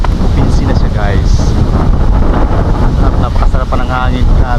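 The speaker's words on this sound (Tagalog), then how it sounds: "Napakasarap pa ng hangin." Steady broadband wind roar buffets the microphone throughout, loud and constant, with faint voices and other noises mixed beneath it.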